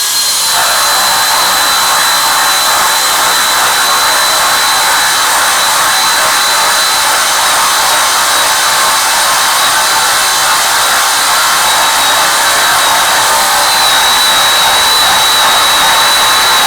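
A Makita DHP481 cordless drill in drilling mode, gear 2, bores with a 1-inch spade bit, producing a loud, continuous high motor whine with steady grinding texture and no breaks, alone without speech.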